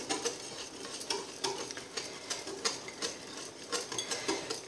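Flour is stirred into pineapple cake batter with quick, rhythmic strokes, each soft scrape and slap of the thick mixture close and fairly quiet, repeating steadily without any voices.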